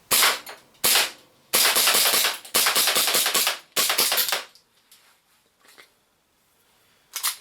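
ARMY Custom 5.1 airsoft gas pistol fitted with a Costa compensator firing a string of sharp, snappy shots in quick bursts close to the mic, then a few fainter pops near the end.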